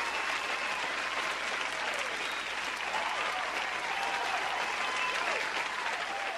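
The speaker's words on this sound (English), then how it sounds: "A round of applause followed as Obama took his seat." A room full of people breaks into a sustained round of applause, dense steady clapping from a crowd, loud and continuous throughout with no speech standing out.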